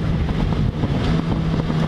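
Yamaha FZ6R motorcycle riding at speed on a highway, loud engine drone mixed with heavy wind buffeting close to the microphone.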